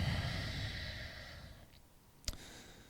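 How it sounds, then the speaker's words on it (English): Slow, controlled breathing in and out through the nose, soft and close during a calming yoga session, with a long airy exhale fading into quiet and a small click near the end. "Slow, controlled breathing in and out of the nose."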